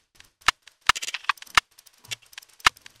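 A drum groove pitched up with an Ableton algorithm plays tight, clicky percussion in a quick pattern, with several loud snappy hits and softer rattling ticks between them, up close and dry.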